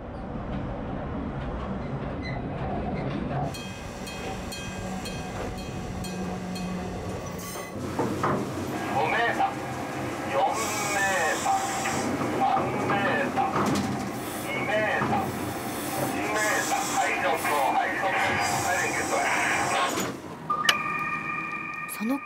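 A coal mine train on the Miike Railway in Japan rumbles and clatters slowly along rails through dense pipework, with mechanical squeals and clanks over a continuous running noise and some talk in the background.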